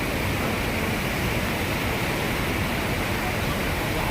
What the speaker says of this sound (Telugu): వాటర్ఫాల్ చూడండి బ్యూటిఫుల్ వాటర్ఫాల్